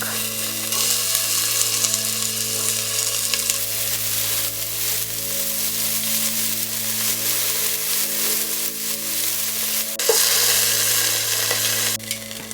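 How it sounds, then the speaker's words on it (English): Meat sizzles and crackles steadily in a hot pan, a continuous loud frying hiss with occasional stirring bumps and a brief louder burst. "you don't want to overcrowd the pan or else you're going to steam your meat rather than frying it up"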